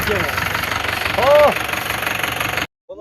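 A tractor engine idles steadily outdoors with a loud, constant rumble and a brief rise in the middle before cutting off abruptly near the end.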